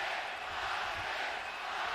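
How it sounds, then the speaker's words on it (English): Boxing arena crowd at a pay-per-view fight chanting a fighter's name, a dense, roaring wash of many voices heard as a continuous distant swell. "Crowd is chanting Marquez, Marquez, Marquez, trying to get their star started early."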